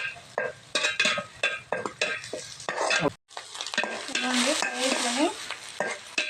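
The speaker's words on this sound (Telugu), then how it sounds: "టమాటాలు ఉల్లిపాయలు పచ్చిమిరపకాయలు అయితే కొంచెం త్వరగా ఫ్రై అయ్యాయి" Tomatoes, onions and green chillies fry in a pan for chicken fried rice, sizzling close up while a utensil scrapes and stirs in repeated strokes, then a denser, steady sizzle follows a brief pause.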